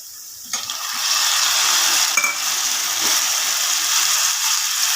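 Sautéed onions sizzle steadily in a pan as tomatoes are added for a simple pattai gravy, a sudden wet hiss rising after the first half second and holding as a loud continuous fry with faint scraping.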